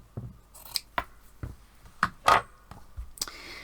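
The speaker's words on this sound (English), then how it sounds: "I'm just going to sort of fairly randomly cut these pieces of fabric." Scissors snipping through pieces of fabric for a quilt, a handful of separate crisp cuts at an uneven pace, close and fairly quiet.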